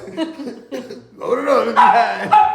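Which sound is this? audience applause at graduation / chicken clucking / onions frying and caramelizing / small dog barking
small dog barking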